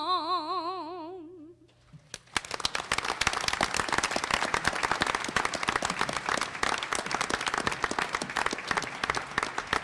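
Audience applause at a school committee meeting, steady sustained clapping from a room of people that begins abruptly after a brief lull and continues loudly to the end.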